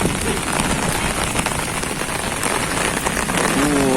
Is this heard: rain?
yes